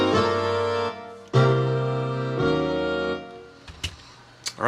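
Sibelius notation playback of a jazz arrangement voiced for trombone, baritone sax and acoustic bass plays sustained chords that change every second or so, clear and close, ending with a couple of short accented hits and no talking.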